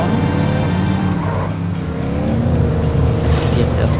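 A car drives through the streets in The Godfather video game, its engine droning steadily with tire noise and a rising rev near the end, while someone talks over it.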